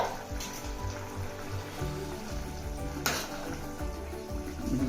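Okra stew, bendakaya pulusu, bubbling hard on a high flame, a steady dense simmer with a brief louder burst partway through, close and continuous, no voices.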